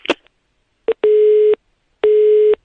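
A telephone busy signal follows a caller hanging up: a click, then repeated steady half-second beeps with silent gaps, loud and clear.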